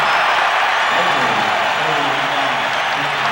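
A packed crowd at the Forum roars and applauds as the first quarter ends in Game 4 of the 1989 NBA Finals between the Pistons and Lakers, a broad, continuous wash of cheering with a commentator talking over it.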